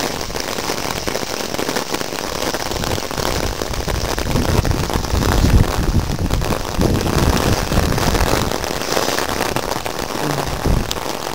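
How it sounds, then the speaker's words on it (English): A heavy Texas rain shower pours down as a dense, steady hiss and roar that stays loud throughout, with scattered sharper patters from drops hitting nearby surfaces. "Your Texas/Southeast Midwest rain shower right here is where it get really heavy"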